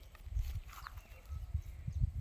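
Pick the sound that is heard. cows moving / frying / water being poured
cows moving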